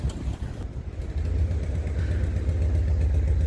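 A small, noisy yellow car drives past along a seaside harbour road in Ramsgate, its engine a steady low buzzing drone that grows louder and closer over a few seconds.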